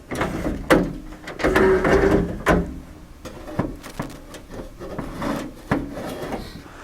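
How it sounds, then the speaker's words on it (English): A 1955-1959 Chevy truck door window is cranked and rolled up with grinding, rubbing mechanical sounds and occasional knocks and clunks, close by. "so now I can roll up the door"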